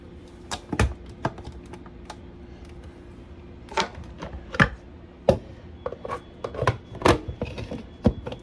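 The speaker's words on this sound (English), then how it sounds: "I'm chopping the apples in time lapse" A knife chops apples on a cutting board in sharp, irregular taps, sometimes in quick clusters, sometimes spaced out, close and crisp against a quiet background.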